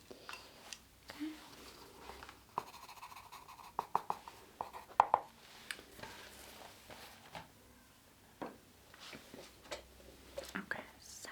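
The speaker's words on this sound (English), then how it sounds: "I just need to write down." A pen scratches across paper in close, quiet strokes with small taps and rustles, under soft whispered speech.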